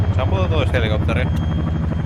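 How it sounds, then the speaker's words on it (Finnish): Helicopter in the military game Arma 3, a steady rotor thrum and engine drone running loudly throughout, with voices talking over it. "Sammuta tois helikopteri."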